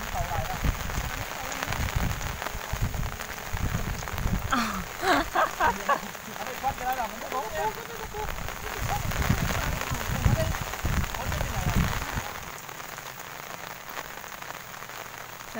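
Steady rain patters outdoors around a flooded fishing spot, close and continuous, with people talking over it at times.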